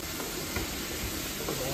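Chopped onions frying in a hot oil tempering with turmeric for egg bhurji give a steady, even sizzle and hiss throughout, close by and with no voices.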